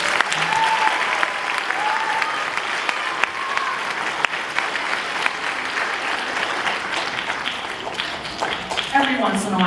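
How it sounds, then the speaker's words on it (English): Sustained audience applause at a 6th grade band spring concert fills a large room, steady and fairly loud, with a few cheers and voices mixed in. "Please give those kids a round of applause."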